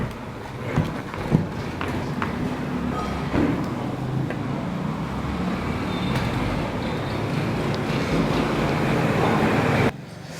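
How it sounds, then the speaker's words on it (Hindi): A tractor passes by outside, a steady broadband engine rumble building gradually over about ten seconds before cutting off abruptly, with a few faint knocks early on. "बार बार में ट्रैक्टर का आना जाना लगा हुआ है भाई"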